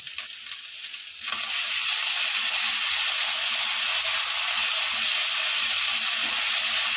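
Garlic paste and ginger paste hit a pan of browned onions while cooking Bengali chicken kosha, bursting into a loud, steady sizzle and hiss that starts abruptly and continues without voices.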